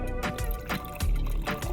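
Coconut water pours from a cracked coconut, a close, gurgling liquid stream that pulses in uneven glugs over a couple of seconds.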